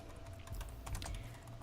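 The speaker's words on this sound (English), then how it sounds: "I'm typing this in because I didn't have this part prepared." Fast typing on a computer keyboard, a close, quiet run of rapid uneven key clicks with no voice over them.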